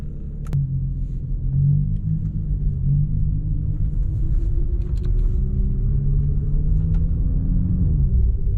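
A BMW M2 rolls along with a steady low engine rumble, heard close and continuous as the car is repositioned, with a faint shift in pitch near the end.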